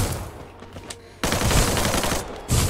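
Gunfire in the battle-royale game Free Fire: a quiet lull, then a sudden loud burst of rapid automatic fire that pauses briefly and resumes in close, dense volleys.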